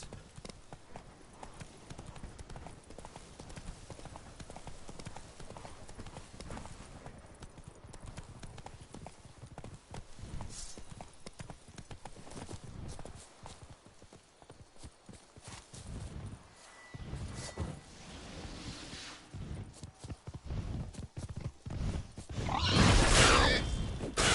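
A horse gallops in The Witcher 3 video game, steady rhythmic clip-clop hoofbeats carrying on throughout with occasional whooshes and a louder burst near the end, a voice faint underneath.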